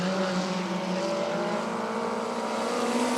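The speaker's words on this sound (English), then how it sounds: "51 is closing in very fast on Shauna Myers and Ashley Madison" Winged race cars roar steadily past on the Rockford Speedway oval during a women's feature race, a loud continuous engine drone with shifting pitch and no gaps.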